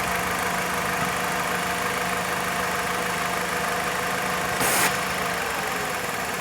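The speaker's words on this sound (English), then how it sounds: "either the engine's gonna run rough, or the engine's gonna potentially stall" A Dodge Caliber engine with a power brake booster vacuum leak idles roughly with a low, uneven hum, a brief hiss bursting in near the end.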